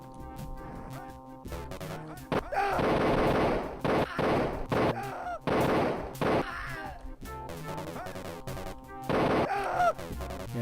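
Gunfire in a Wolfenstein-style shooter game: bursts of machine-gun fire and single gunshots repeat over about ten seconds, loud and close, with pauses between volleys and a faint musical bed underneath.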